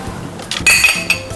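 Glasses of rose hip puree juice clink together in a toast, a couple of bright, short chinks close up, standing out over a quiet room.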